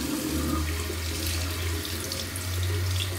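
Hot water runs steadily from a tap into a sink for face washing, a continuous close hiss and splash that keeps going without a break and with no voices.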